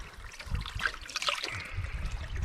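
Water trickles softly and steadily from a natural spring on an off-grid Alaska homestead while a sample is collected. The sound is quiet and close, with small splashes and no talking.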